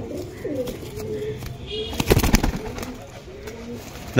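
Pakistani pencil-tail pigeons cooing in a loft in Purba Bardhaman, rolling throaty calls close by, interrupted midway by a burst of wing flapping or handling noise before the cooing resumes.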